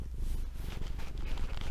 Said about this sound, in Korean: 골골 소리 한번 들려드릴게요